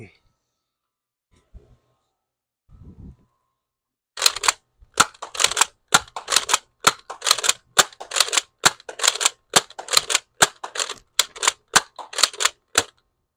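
An X-Shot Lock Blaster toy fires foam darts at a target 20 feet away, a rapid run of sharp plastic snaps and clacks in quick rhythm after a few faint sounds and a brief quiet start.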